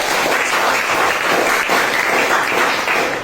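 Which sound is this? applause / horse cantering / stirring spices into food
applause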